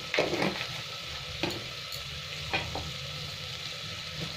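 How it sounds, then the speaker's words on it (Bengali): Coriander and cumin powders frying in a pan with tomato, a continuous soft sizzle with occasional stirring scrapes, close and steady, no speech. "মশলাটা ভালো করে একটু ভেজে নিলাম"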